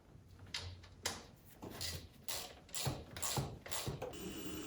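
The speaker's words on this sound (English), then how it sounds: "we're ready to remove our 2 10mm bolts." Ratchet wrench clicking in several bursts as two 10mm bolts are loosened from an ignition coil on a 6.1 HEMI engine, close and fairly quiet with short pauses between runs of clicks.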